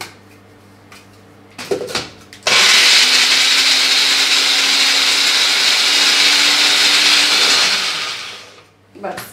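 After a few clinks and bumps, a kitchen blender starts up and grinds mango into smooth pulp with a loud, steady whir for about six seconds. It then winds down and stops.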